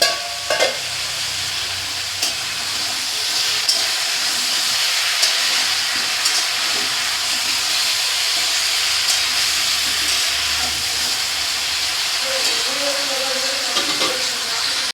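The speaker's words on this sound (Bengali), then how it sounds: "এইভাবেই আমি আলু আর এঁচড়টাকে সেদ্ধ করে নেব" Potatoes and young jackfruit cook in a covered pan, giving a steady close sizzling hiss with faint stirring scrapes throughout, and no talking.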